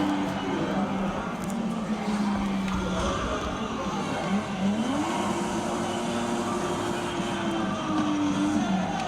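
Race car engine in a racing video game on a PC, a continuous droning engine note that rises and falls as the car revs and shifts, with crowd-like background noise and occasional voices under it.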